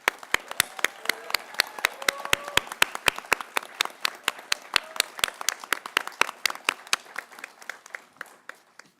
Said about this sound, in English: Please let's give all our graduating students a round of applause.